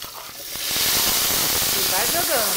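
Tomato goes into a very hot pan with onion and garlic, and a loud hissing sizzle swells within the first second and holds steady, with a voice speaking briefly near the end.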